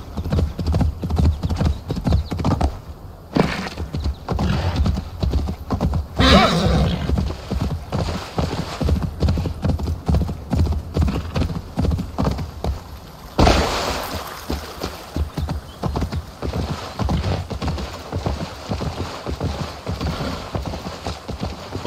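Rapid hooves clip-clop steadily on hard ground while a horse whinnies in Assassin's Creed Valhalla, the clatter continuing without pause over a constant background din.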